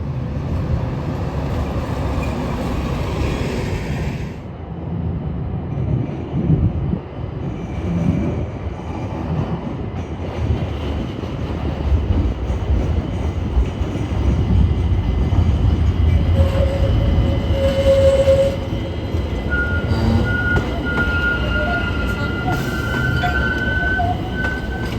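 A Pittsburgh light rail train rolls past near a tunnel portal, a steady low rumble with rising wheel and rail noise and a thin squeal toward the end, loud and continuous throughout.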